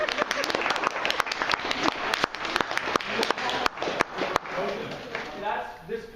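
A small group claps in scattered, uneven bursts that fade out, with people talking over and after the clapping.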